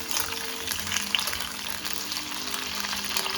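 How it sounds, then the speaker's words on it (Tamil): Onion, tomato, ginger and garlic sauté in a pan, making a steady, dense sizzle with soft crackling and occasional stirring scrapes, close and fairly quiet. "இப்போ பார்த்தீங்கன்னா வெங்காயம், தக்காளி, இஞ்சி, பூண்டு நல்லா வதங்கிட்டு இருக்கு."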